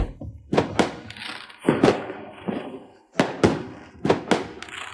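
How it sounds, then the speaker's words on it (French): Fireworks burst one after another, five or six sharp booming explosions in an irregular rhythm, each followed by a short decaying crackle, loud and fairly close in an outdoor night setting. "Ces feux d'artifice sont magnifiques."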